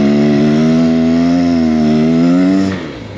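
A Beta X Trainer 300 enduro motorcycle on a snowy trail drones loudly and close with a steady engine tone, then the revs drop and the sound eases off near the end.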